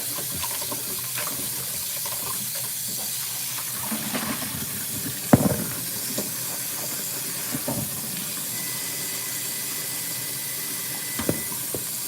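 Tap water runs steadily into a sink while chicken wings are rinsed, a constant hissing stream broken by occasional clunks and splashes.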